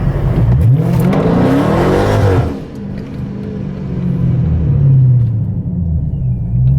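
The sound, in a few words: Procharged Dodge Scat Pack warming up drag radial tires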